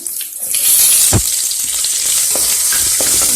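Chopped onion frying in a pan for raw banana poriyal. A loud, continuous close sizzle with a few stirring knocks, and no voices.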